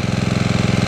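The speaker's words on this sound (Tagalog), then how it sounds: "hayaan ko muna ng umaandar yung makina" A water well drilling rig's engine runs steadily and loudly close by, with a fast, even, knocking pulse throughout.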